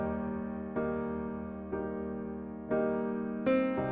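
Piano playing the intro to a song, with sustained chords and an accented note struck roughly every second, each attack ringing out clearly and decaying, solo and close.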